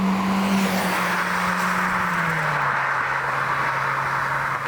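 A 2022 Mazda CX-3 driving at normal pace, its steady engine drone and road noise filling the cabin with a low tone that eases down as it settles into cruising, no talking.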